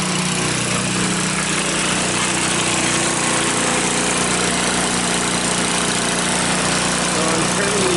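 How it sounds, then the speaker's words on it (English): A salvaged 150cc GY6 engine on an off-road go-kart or side-by-side idling with a loud, steady, buzzing drone held throughout at close range. "So I'm turning the idle down."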